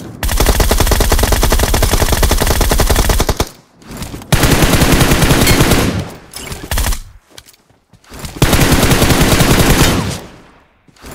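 Rapid automatic gunfire from PUBG Mobile comes in three long, loud sustained bursts, with short gaps and scattered single shots in between, dense and close.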